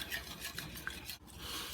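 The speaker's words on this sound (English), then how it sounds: "We're going to give it a quick whisk until it's well incorporated." Whisk stirring vanilla, evaporated milk and eggs into a custard for old-fashioned bread pudding, a steady close scraping and swishing against the bowl with small clinks, alone with no voices.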